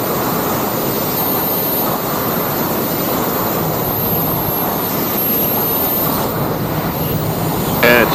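A small aircraft in flight drones steadily while making a GPS turn, a loud broadband engine and wind roar heard from on board, constant throughout.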